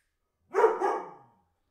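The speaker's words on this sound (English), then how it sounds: "hopefully we can't hear the dogs barking at the deer." A dog barks at deer, giving one short double bark at moderate distance in an otherwise quiet room, with no talking.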